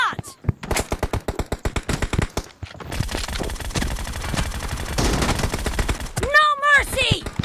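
Gunfire in the mobile battle royale game PUBG Mobile during a team deathmatch, rapid bursts of automatic shots in quick rhythm followed by sustained firing and ricochet-like whines, loud and close.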